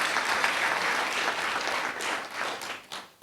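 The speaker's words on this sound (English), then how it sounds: "A round of applause for the team." Audience applause at a lunch address, a steady wash of many hands clapping throughout, fading slightly near the end.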